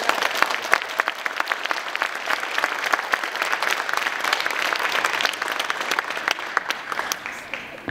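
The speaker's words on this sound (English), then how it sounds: "I want to give a round of applause to everybody" Audience applause fills a cat show hall at the CFA 2012 World Show, with dense steady clapping running the full length, fairly close and even, while faint voices murmur beneath it.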